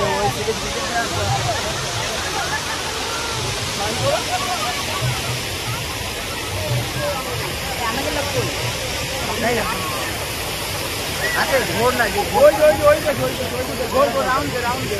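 Waterfall at Eco Park in Kolkata, a steady broadband rush of falling water that runs continuously throughout, with a crowd murmuring faintly in the background.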